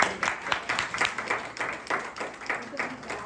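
An audience claps and applauds steadily for a few seconds, a dense patter of many hands at moderate distance with no break in it.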